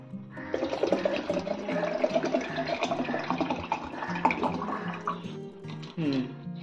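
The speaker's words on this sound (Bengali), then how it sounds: "আমি ছোট ছোট বোতল, মানে 500-র বোতলগুলো ঢেলে দেখছি" Water poured from small 500 ml bottles into a 1-litre jar gives a close, steady gurgling fill that lasts several seconds, then a brief pause and a final splash.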